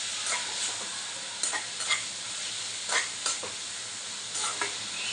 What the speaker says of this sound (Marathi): मालवणी मसाला व्यवस्थित मिक्स करून घेऊया म्हणजे मसाला सगळे व्यवस्थित लागेल